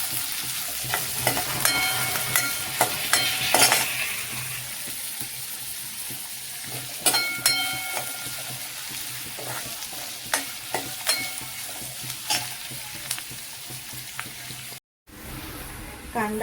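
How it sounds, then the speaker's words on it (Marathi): Onion sautés in a pan, hissing steadily up close while a spatula scrapes and knocks against the metal in repeated stirring strokes, with a brief dropout near the end. "त्याच्यानंतर कांदा, परतून घ्यायचा छान गुलाबीच्या रंगावर."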